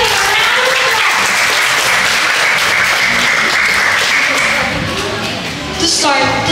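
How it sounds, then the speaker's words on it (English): Loud, dense applause from guests welcoming a seven-year-old boy at his birthday party, a sustained roar of clapping that fades slightly near the end as a voice starts to speak. "Let's give him a round of applause."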